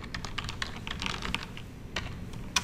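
Fingers tapping out a Telnet command on a computer keyboard, a steady run of light, close keystrokes with a few sharper clicks near the end, no voices.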